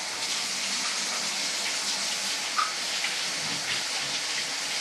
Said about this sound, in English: First thing you do is you wash your hands